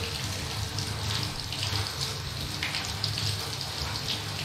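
Water runs steadily from a household tap, a close, continuous hissing splash into a sink without pause.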